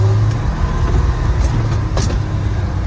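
An old, rusty Ford truck that had been left to rot for 20 years is driving, its engine giving a steady low rumble close by, with brief higher rattles and squeaks above it and no talk.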